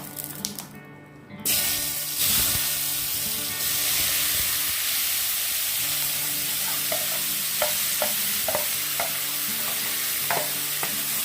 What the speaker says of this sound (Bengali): তেলটার মধ্যে এঁচোড়টাকে দিয়ে দেব।